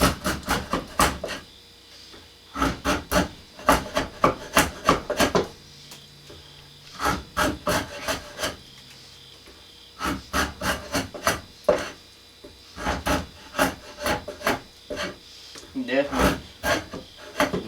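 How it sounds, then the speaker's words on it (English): An old draw knife is sharpened in repeated quick bursts of rasping strokes, grouped in clusters with short pauses between, close and crisp in a quiet workshop. "sharpen my old draw knife up some more."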